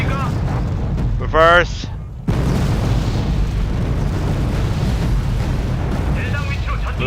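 Heavy artillery explosions rumble in the game Wargame Red Dragon, a dense continuous low roar of blasts with a brief electronic beep and a short spoken command over it.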